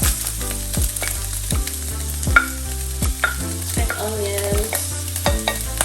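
Chopped onions sizzling in a pan alongside rice for a Thai-style rice bowl: a loud, bright frying hiss with regular scraping stirs about every second, close up and with no talking.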